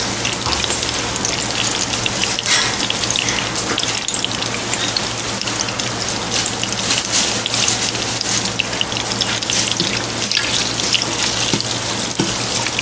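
Melted butter and oil with star anise bubbling in a pot for a Trinidadian red curry, a loud, steady sizzling hiss with dense crackling pops running throughout, no talking.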